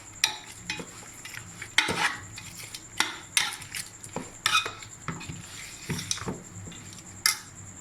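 A spoon scrapes and clinks against a metal pot while fresh spice masala for Pakistani chicken biryani is mixed, irregular sharp knocks and scrapes with a faint sizzle underneath, fairly quiet and close, no voices.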